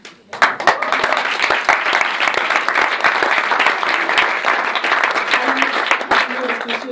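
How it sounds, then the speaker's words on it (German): Sustained audience applause fills the room after a premiere, dense clapping continuing steadily for several seconds at close range with no voices over it. "Applaus"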